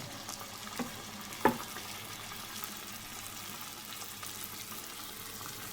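Eggplant pieces fry in hot oil, a faint, steady sizzle with a couple of soft clinks near the start and no voices.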